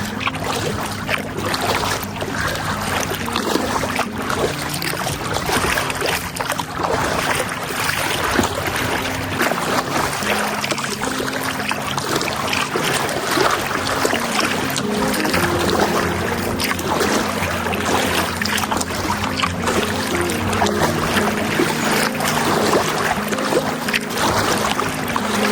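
Water swishes and trickles steadily around a kayak on a lake as a paddle dips rhythmically, with a low engine hum drifting in from nearby boats.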